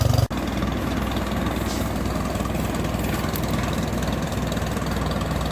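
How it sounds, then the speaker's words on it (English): A tractor powering a Jinma wood chipper idles with a steady, continuous low engine drone, fairly close and even throughout, after a brief knock at the start; no talk. "The tractor's just idling for now."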